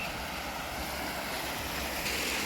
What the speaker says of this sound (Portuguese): Só o barulhinho da água.